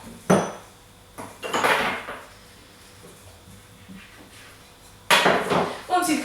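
Mini pizza dough being cut into rounds on a kitchen surface, heard as a few sharp clattering knocks of a metal cutter or utensil with quieter scraping between, close and fairly loud with no talking.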